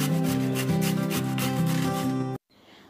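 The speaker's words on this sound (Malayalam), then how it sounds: "അതിനുശേഷം 1 ക്യാപ്സിക്കം കൂടി ഗ്രേറ്റ് ചെയ്തിട്ട് എടുക്കാം." A capsicum is grated on a kitchen grater in steady, rhythmic rasping strokes, close and loud, ending suddenly in silence.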